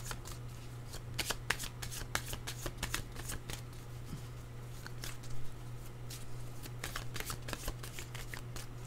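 Tarot cards are shuffled by hand in a quiet room: a continuous run of soft papery riffles and flicks with sharper snaps, over a steady low hum.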